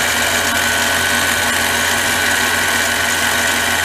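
A Harbor Freight mini lathe set up for milling cuts a channel, giving a loud, steady motor whine with a constant cutting hum that holds evenly throughout, close by with no pauses.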